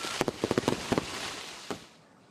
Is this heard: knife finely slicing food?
no